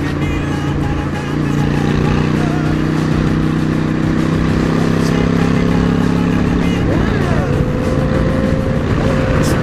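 Loud custom motorcycle engines droning steadily with wind rumble as they accelerate through curves, the pitch dropping and shifting partway through as gears change.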